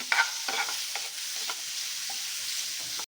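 Tomatoes and green chillies fry in a pan while a spoon stirs them, giving a soft continuous sizzle broken by regular scraping strokes, close and fairly quiet, ending with a sharp knock.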